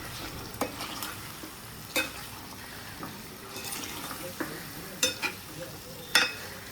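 Salt is stirred into an Andhra-style chicken kurma with potatoes, with spoon scrapes and several sharp clinks against the pot over a low simmering bubble.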